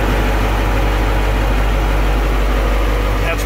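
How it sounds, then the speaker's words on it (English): Twin Caterpillar 3208 marine diesel engines, 370 horsepower each, idle steadily in the engine room of a 55-foot Hi Star cockpit motor yacht, a loud, close, constant low rumble with no change in pitch. "3208 Caterpillars, 370 horsepower."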